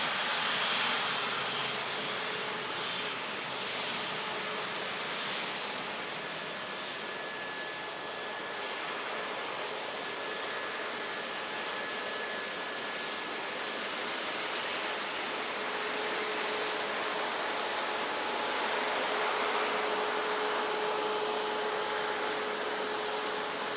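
Aircraft engines at Christchurch Airport hold a steady, loud whining roar with faint tonal whistles, continuous and unbroken on a windy day.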